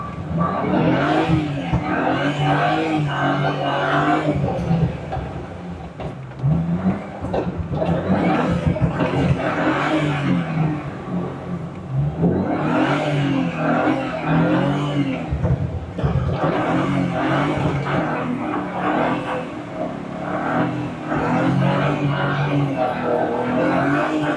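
A BMW 335 laps a race track on its first track outing, its engine roaring loudly and continuously, surging and easing through corners and straights.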